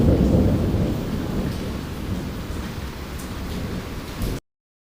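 Heavy rain pours steadily while deep thunder rumbles loudly, strongest at the start and then settling into a dense, continuous downpour wash that cuts off abruptly, used as a storm sound effect in a Hindi moral story.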